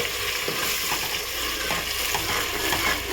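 Steady frying sizzle with repeated scraping strokes as ground masala is stirred in a pressure cooker, close and continuous, no voices.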